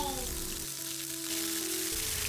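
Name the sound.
white spice paste sizzling in hot coconut oil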